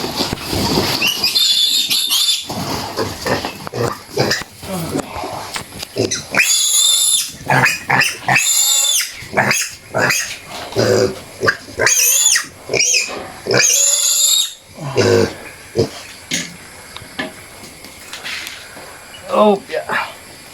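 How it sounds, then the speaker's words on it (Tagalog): Piglets about a month old squeal loudly in repeated shrill bursts while being dewormed with ivermectin, close up, with pauses between the cries and someone talking in between. "May baboy tayo to."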